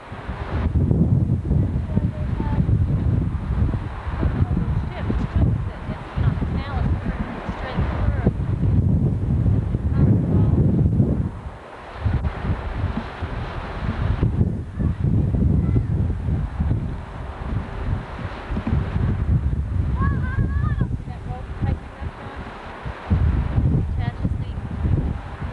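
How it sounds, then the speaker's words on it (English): Wind blows by a shore, buffeting the microphone in loud, uneven gusts over low rumbling water, while people talk faintly beneath it. "looks like the wind wants to blow it into that side"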